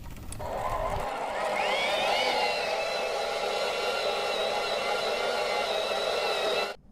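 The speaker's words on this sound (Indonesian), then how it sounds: "Kemudian baru kita mulai aduk dengan mixer." An electric hand mixer beats milk donut dough in a bowl, a steady loud whirring drone that starts after a second and runs continuously for several seconds before stopping abruptly.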